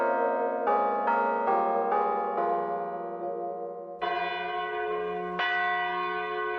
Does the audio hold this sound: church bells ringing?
yes